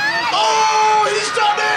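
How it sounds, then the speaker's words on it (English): Crowd of villagers cheering and yelling at an outdoor St George and the Dragon folk play, a steady near wash of shouts and whoops with a commentator's voice over it. "Cheer louder, folks. Cheer louder. Cheer on. Cheer on St. George!"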